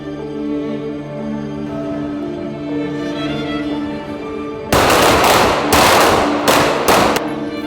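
Gunfire at a police academy firearms training range: a sudden burst of rapid, loud shots begins midway after a steady hum, continuing in several close, sharp volleys.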